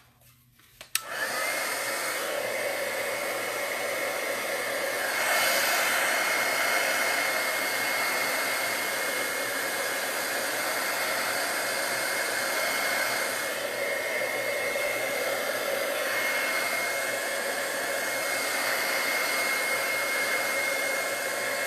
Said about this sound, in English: Where's my heat tool?